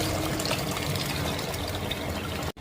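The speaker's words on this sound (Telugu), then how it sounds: "ఇప్పుడు చింతపండు పులుసు పోసుకున్నాం." Tamarind juice pours into a simmering fish curry, a steady close liquid wash that runs unbroken for a couple of seconds before stopping abruptly.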